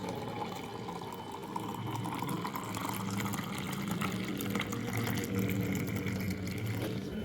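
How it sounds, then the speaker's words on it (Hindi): Juice poured steadily into a glass, a continuous close liquid stream and fill with a gentle gushing quality running throughout without pause. "चल जी अब मैं डालने लगी हूँ इस गिलास के अंदर।"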